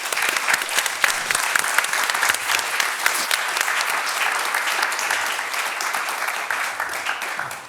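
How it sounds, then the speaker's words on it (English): Audience applause after a panel discussion on emerging powers in a fragmented world order, loud sustained clapping from a full room with no talk over it, holding steady before easing off at the close. "we should give them a big hand of applause"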